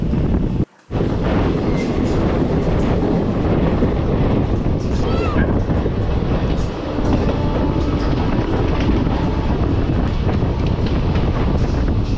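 Train waiting near a station at night, loud rumbling with rail clatter and wind buffeting the microphone, continuous and close, with a brief dropout early on.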